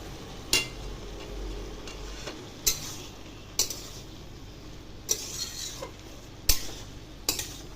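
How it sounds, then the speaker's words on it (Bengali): Spoon scraping and clinking in a pan as turmeric and slit green chilies are mixed into pumpkin. About seven sharp metallic knocks land at uneven intervals over a low, steady background, with no voices. "সবগুলো দিয়ে ভালো করে মিশিয়ে নেব"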